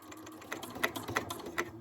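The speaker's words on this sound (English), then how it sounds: "Let's take you to the sewing machine and share how I do a quick stitch around." A sewing machine stitching around a paper journal tag, a fast close mechanical whir of needle strokes in a quick steady burst with small pulses.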